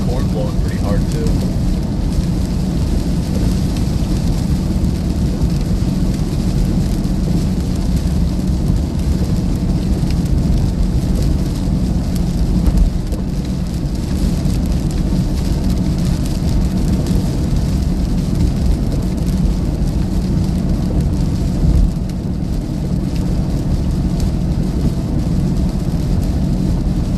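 A loud Iowa thunderstorm with a downburst: steady, roaring wind and rain noise that fills the whole stretch, with faint speech beneath it.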